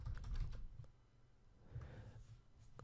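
Typing on a computer keyboard: quick runs of soft key clicks in two bursts with a brief pause between, close and moderately quiet, with no talking.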